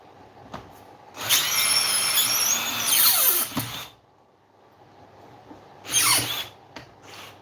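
A power driver works loose small screws, whirring in two bursts, a long one and then a shorter one, with quiet handling noises between them and no talking.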